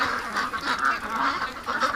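A group of ducks in a freshly washed pen, quacking and honking in a busy, overlapping chorus of repeated calls at moderate distance, with no talk.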